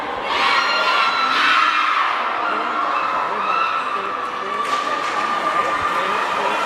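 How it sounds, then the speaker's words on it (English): Spectators at an ice hockey game between the Philippines and Hong Kong, China scream and shout in a loud, continuous roar of high voices and cheers that carries on without pause. "I'm sure the audience can hear the screams and shouts very, very clearly."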